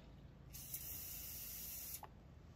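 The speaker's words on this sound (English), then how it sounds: "we just basically spray this till it sprays out clear" A short burst of sharp spraying hiss as liquid is sprayed through a paint spray pickup tube, starting abruptly, holding steady for about a second and a half, then cutting off, followed by a faint sputter.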